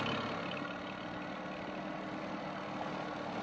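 A Yamaha outboard motor, fitted as a replacement for a Suzuki, runs steadily and close by, giving a constant idling engine drone with no pauses and no voices.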